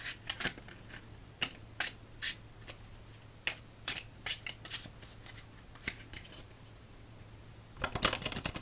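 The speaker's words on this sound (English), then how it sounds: "Let's do one more shuffle." Quick riffling bursts of an Imperial Yellow CHAO playing card deck being shuffled for solitaire, several sharp rustles spaced across the clip, close and crisp with quiet gaps between.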